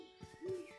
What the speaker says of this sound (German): Cool, eine Eule. Guck mal, eine Eule.